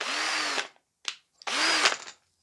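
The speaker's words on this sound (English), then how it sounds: "electric drill." An electric drill whirring close up in two bursts, revving up and spinning down, with a short click between them.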